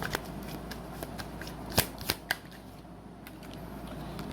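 Tarot cards are shuffled and riffled quietly up close, with a few crisp snaps and flicks over a low room hiss.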